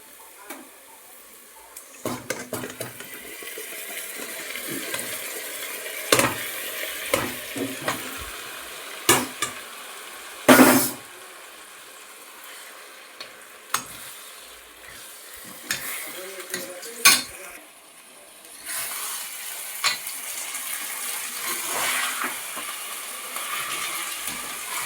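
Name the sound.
mutton sizzling and stirred while frying in a pan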